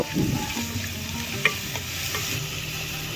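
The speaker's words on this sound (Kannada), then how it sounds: "ಈ ಎಣ್ಣೆ ಕಾಯ್ತಂದ್ರ ಅದ್ರೊಳಗ ಉಳ್ಳಾಗಡ್ಡಿ ಈ ಪಲ್ಯಕ್ಕ ಒಂದ್ ಸ್ವಲ್ಪ ಜಾಸ್ತಿನ ಹಾಕ್ಬೇಕ್ರಿ" Onions sizzling and crackling in hot oil for a North Karnataka palya, with a spoon scraping and stirring through the pan at the start and a few sharp clinks later.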